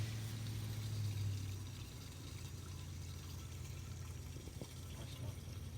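Waste water drains from a camper's black water tank through a tube with a steady, faint, rushing trickle, captured near the tube on a Geo Pro 19F camper at a campground.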